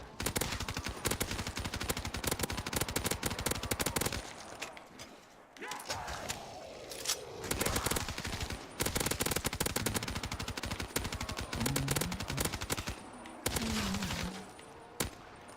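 Rapid automatic gunfire in the shooter game Black Ops 3, loud sustained bursts with brief pauses between them.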